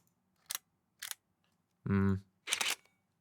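Stock camera shutter sound effect from Artlist: a sequence of crisp mechanical clicks, two short snaps, then a buzzing longer shutter burst and a final double click, close and clean against silence.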